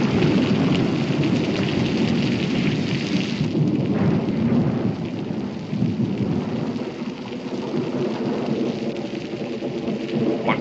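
A thunderstorm: rolling thunder rumbles low and heavy over steady, hissing rain. The roar stays continuous and loud throughout, easing slightly midway, with no voices.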